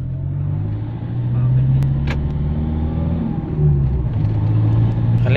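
A Toyota Vigo pickup engine, modified and fitted with a new throttle setup, hums and revs up in steady, fairly loud swells close by, with a person speaking over it.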